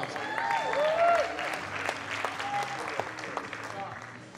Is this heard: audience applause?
yes